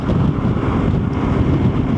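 Steady, loud lodos wind in Bursa, Turkey rumbling and buffeting against the microphone, a continuous low roar with no pauses and no voices.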